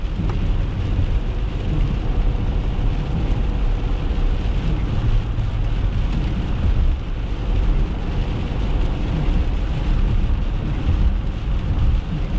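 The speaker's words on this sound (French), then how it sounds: "on est encore dans la grosse pluie" Heavy rain pours down continuously in a November storm near Montreal, a dense and steady hiss with deep rumbling underneath, no voices over it.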